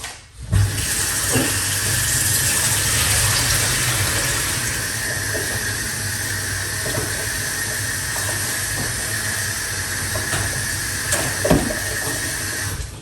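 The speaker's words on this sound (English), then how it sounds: "So quickly, let's rinse off these." Tap water runs steadily over ginger and other fresh ingredients being rinsed, a continuous loud hiss with occasional faint knocks from handling.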